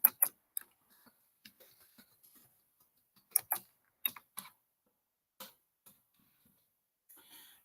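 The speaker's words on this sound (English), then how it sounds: "Type in your address and make sure you're typing in the full address." Sparse, irregular clicks of keys being pressed on a computer keyboard, quiet and close, with pauses between short bursts of typing.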